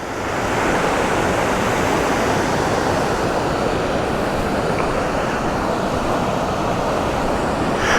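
A waterfall on Dick's Creek, swollen after two days of heavy rain, pours with a constant, loud rushing roar, broad and unbroken from start to finish, with no voices.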